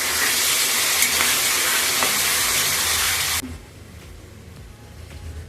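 Chicken liver sautés in a pan, giving a loud, continuous hiss and sizzle that cuts away sharply to a quieter low simmer, with no voices.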